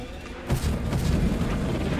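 Plants explode in the video game Journey to the Savage Planet: a sudden deep boom about halfway through, followed by a dense, rumbling blast that stays loud to the end.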